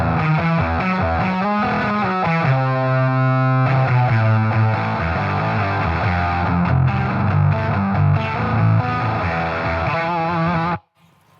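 An electric guitar runs through a distortion pedal in death-metal style, playing loud, heavily saturated chords and riffs continuously before cutting off abruptly near the end.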